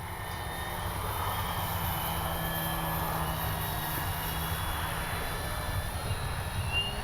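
An Avios Grand Tundra RC airplane flying with its flaps down, a steady, continuous motor drone with a faint whine, held at an even level throughout and with no talking.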